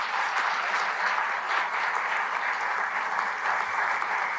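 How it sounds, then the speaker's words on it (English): An audience at a candidates' debate claps for the moderators in a steady, sustained round of applause from a room full of people. "I hope that the crowd will join with me in applause for you"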